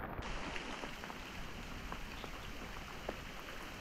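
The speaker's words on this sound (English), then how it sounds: "Out here in the pouring down rain, catching catfish." Pouring rain falls steadily while someone fishes for catfish beneath a stand of trees, a dense continuous hiss of drops with a few louder individual splats, close and alone without talk.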